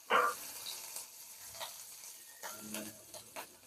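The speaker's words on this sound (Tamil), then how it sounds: "இப்போ எல்லாம் நல்லா ஃப்ரை ஆகட்டும்." Garlic and green chillies fry in a pan with a soft, quiet sizzle, broken by a brief scrape at the start and a few light stirring knocks.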